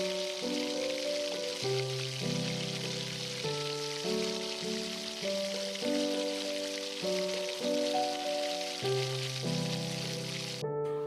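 Pieces of eggplant hiss and sizzle in spiced oil in a pan, a steady close crackling frying sound with a faint electronic tone running underneath, no speech.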